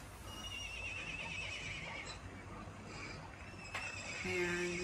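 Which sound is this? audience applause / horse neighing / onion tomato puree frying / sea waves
horse neighing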